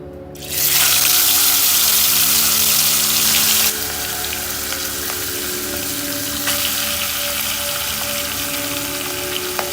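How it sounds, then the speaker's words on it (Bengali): Fish heads frying in hot oil in a wok give a loud, steady sizzle that bursts in suddenly, then settles into a continuous, slightly softer crackle for the rest of the stretch, with no talking. "মাছের মাথাগুলোকে উল্টে পাল্টে খুব ভালো করে ভেজে নেব"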